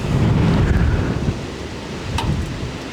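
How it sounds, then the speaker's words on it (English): Strong wind gusts buffeting a microphone on a hilltop at a dirt bike riding spot, a loud low roaring rumble that swells and eases, with no talking. "Yes, it's windy up here."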